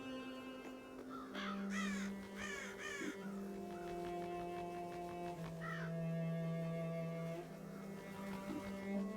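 Crows caw in the video game Child of Light, with several repeated harsh calls in short bursts early on and another later, set over steady game music with no talk.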